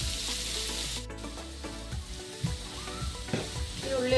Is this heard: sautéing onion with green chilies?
yes